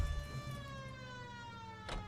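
A faint electronic police siren in the video game L.A. Noire, wailing with a slowly falling tone, heard quietly over low rumbling vehicle noise.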